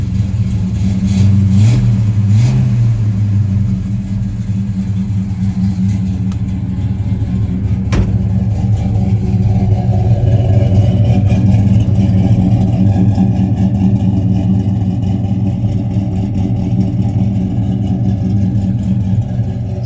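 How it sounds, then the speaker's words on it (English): A 1970 Dodge Coronet Super Bee with a lumpy performance cam idles loud and close in neutral, its deep rumble swelling in a couple of revs early on before settling into a steady, throbbing idle with no talk. "it's got a nice cam in the car, in the engine. Very, very nice sounding."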